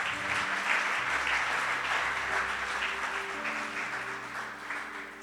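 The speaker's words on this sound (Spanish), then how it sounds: "Dale un fuerte aplauso al Señor." A church congregation claps together in steady sustained applause while a low organ or keyboard chord holds underneath, moderately loud and continuous throughout.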